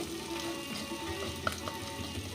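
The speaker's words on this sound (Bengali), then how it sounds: "মেথিটা ভাজা হয়ে গেছে।" A few fenugreek seeds fry in a little oil in the middle of a pan of pumpkin, potato and bitter gourd, giving a soft, steady sizzle with one small pop, faint and with no voices.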